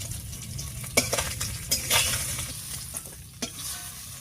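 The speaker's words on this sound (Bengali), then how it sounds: "এদিকে মাছগুলো ভাজা হয়ে গেছে, এবার নামিয়ে দিচ্ছি।" River fish sizzle in hot oil in a pan while being turned, a soft steady frying hiss broken by a few sharp scraping stirs near the close.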